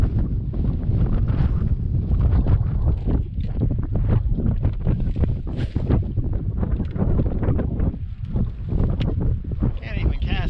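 Heavy, cold-front wind on open water while fishing hits the microphone as a loud, continuous low roar and buffeting rumble, with someone talking faintly beneath it.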